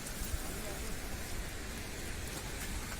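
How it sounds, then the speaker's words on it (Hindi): Steady rain pours on the trail near Chuliya waterfall, a dense, even hiss of drops on surfaces that stays constant and close throughout, with no talking. "बीच में आ गई है बारिश"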